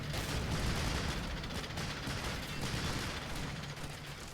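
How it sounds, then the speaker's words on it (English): A twin AA gun in the Men of War battle for Guam fires at U.S. Marines, with dense, rolling bursts of automatic fire and booms blending into a continuous loud barrage. "the twin AA gun is still opening up at some of the U.S. Marines attacking"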